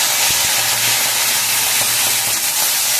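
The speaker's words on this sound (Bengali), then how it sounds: "এবার সামান্য একটু জল দিয়ে দিলাম।" Water splashed into a hot pan of frying okra and potato sets off a loud, steady steaming hiss that fills the whole stretch, with faint pan crackles underneath and no talking.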